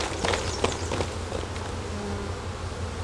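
Honeybees buzzing after being shaken off a hive frame into a box, a soft continuous hum with a few brief louder passes of individual bees near the microphone.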